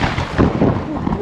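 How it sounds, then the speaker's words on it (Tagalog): A heavy, rumbling boom of thunder rolls loudly for about a second, low and close, with no voices over it. "Thunderstorm."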